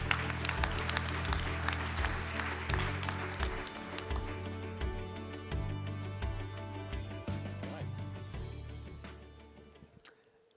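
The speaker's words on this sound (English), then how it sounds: "Round of applause for Michael, please, ladies and gentlemen." An audience at an award ceremony applauds over loud, pulsing walk-on music with a deep repeating bass line, the clapping forming a bright, dense layer that fades out along with the music near the end.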